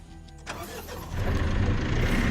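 A car engine turns over and catches, then revs up into a louder, steady roar while riding in a military-style vehicle, loud and close with no talk.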